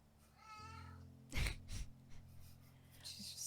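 Plaintive drawn-out meows from a cat in the video game Life is Strange 2, several cries in a row over a low game hum, with a breathy gasp and quieter sounds between them.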